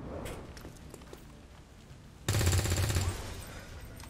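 Gunfire in the video game XCOM 2: a sudden loud burst of rapid shots cuts in after a quieter stretch with faint background sounds, then fades to a lower rumble.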